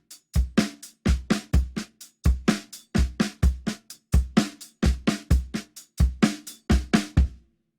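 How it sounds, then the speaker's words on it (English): Single paradiddle split between hi-hat and snare over a 3-beat clave, New Orleans second line style bass drum on a drum kit, loud, close, steady syncopated strokes repeating for nearly eight seconds with no talking. "the paradiddle is going to be played between the hi-hat and the snare drum, and I'm going to play a 3-beat clave,"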